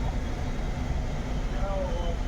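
A Maruti Suzuki WagonR with a misfire idles, its low, uneven engine rumble running steadily beneath someone talking nearby.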